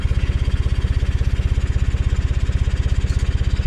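A Tumosan tractor engine idles loudly and close with a steady, rapid thumping beat, running unchanged throughout while its hydraulic arm is lowered.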